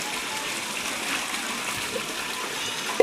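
Water runs steadily while a cooking pot is washed, a continuous close hiss of flowing tap water that ends in a small clank of the pot.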